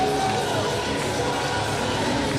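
A wrestling crowd in Cloverdale roars steadily at an All Star Wrestling match, a dense continuous wash of cheering and chatter that fills the whole moment without clear breaks.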